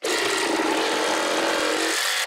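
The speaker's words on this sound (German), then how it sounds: "So, und dann setze ich das einfach hier am Rand an und schneide dann hier mit rein." A jigsaw fitted with a DADO blade cuts steadily into the edge of a wooden board, a loud continuous rasping buzz lasting about two seconds before stopping abruptly, with no talking.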